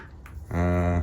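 A turkey calls close by just outside a window, a single sustained gobbling or yelping cry that starts abruptly and holds loud and steady for about half a second, with no talking.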